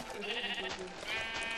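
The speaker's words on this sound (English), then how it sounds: "Let's go hunting in the jungle at night where it's dangerous because sheep will attack you." Sheep bleat in the video game Minecraft, a couple of wavering, nasal bleats close and fairly quiet, with no talking over them.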